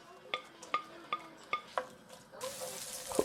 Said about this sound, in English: in another pan I've got some oil and the sliced onion